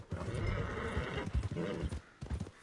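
Horse in Red Dead Redemption 2 whinnying while its hooves clip-clop steadily on the ground, close and clear with game ambience underneath.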